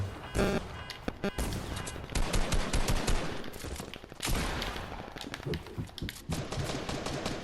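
Rapid bursts of automatic gunfire and scattered shots crackle loudly and continuously, with dense overlapping volleys and brief lulls throughout.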